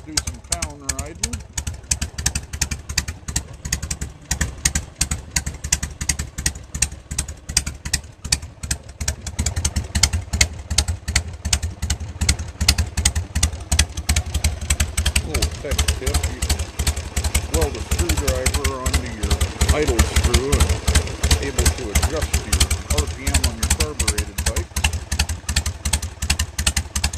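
A Harley-Davidson 883 Sportster engine idles slowly, almost on the verge of stalling, with a steady, loud, uneven loping beat of firing pulses running close by for the whole stretch.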